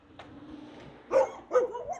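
A dog outdoors on a street gives two sharp, fairly close barks in quick succession after a faint earlier yip, over quiet background noise.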